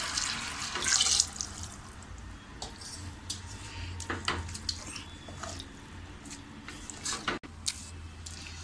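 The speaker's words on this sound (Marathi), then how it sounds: "आता त्याच वाटीने मी 3 वाटी पाणी घालते." Water poured from a bowl into a cooking pot holding one and a half bowls of rice for masoor pulao, a close, steady splashing stream that runs through most of the stretch with small clinks of the vessel, no voices.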